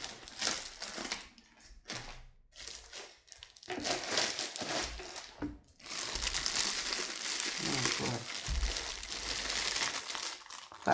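Plastic packaging around a hypochlorous acid machine crinkles and crumples during unboxing, with bursts of rustling separated by short pauses, then steadier crackling handling close by.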